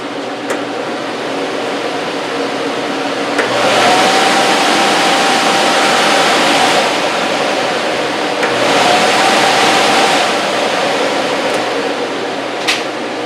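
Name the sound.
four-speed furnace blower fan running on speed 1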